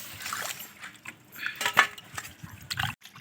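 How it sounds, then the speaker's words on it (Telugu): Fish pieces being rinsed by hand in water, with sloshing splashes and light clinks of a metal vessel in irregular bursts, close and moderately loud, no talking. "కడిగి దాంట్లో ఉండే పేగులు, డస్ట్ అన్నీ నీట్గా క్లీన్ చేసుకునేస్తున్నాం అనమాట వాటర్తో"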